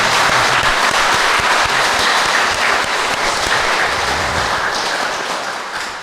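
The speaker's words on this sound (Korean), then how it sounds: "우리 LD 부부께 마지막으로 힘찬 감사의 박수." Audience applause at a marriage mentoring education session fills the room, loud and dense throughout, fading slightly toward the end with no talk over it.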